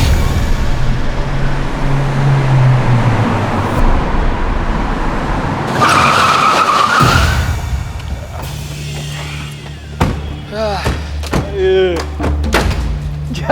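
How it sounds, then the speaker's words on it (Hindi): A car speeds along a street outside a restaurant in Mumbai, with a sharp tyre screech of a skid in the middle, followed by thuds and people talking over ongoing traffic noise. "इतनी तेज गड्डी चला के पता नहीं इन लोगों को कहाँ पहुँचना है एक दिन"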